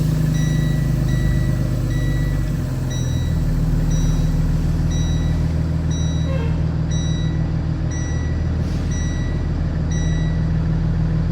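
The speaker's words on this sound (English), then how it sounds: "I want to pull forward to approximately 5 miles per hour, apply the brake" A school bus engine idles and rumbles steadily up close while a regular high beep repeats about once a second, then the engine note shifts as the bus creeps forward at low speed and brakes.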